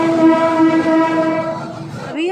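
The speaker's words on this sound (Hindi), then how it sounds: "ये रही हमारी ट्रेन जिसे हम जाने वाले हैं।" A passenger train rolls along a railway station platform in Lucknow, its horn sounding in long steady tones over rumbling wheels, loud and near, before the horn's pitch bends upward at the end.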